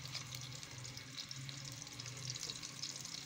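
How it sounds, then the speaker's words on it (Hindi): Chopped onions frying in hot oil in a pan for dum aloo methi, a steady close sizzle and crackle running continuously with no talk over it. "अब हम इसमें प्याज डाल देंगे, प्याज हल्की सी ब्राउन हो जाएगी"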